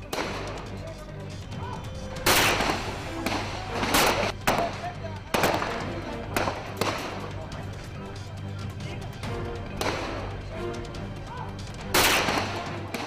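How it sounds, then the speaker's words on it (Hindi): Continuous gunfire at a police station during a terrorist attack, with repeated loud cracking bursts at irregular intervals over a steady low rumble, and some voices underneath. "दीनानगर पुलिस स्टेशन में से फायरिंग की लगातार जो आवाज आ रही है"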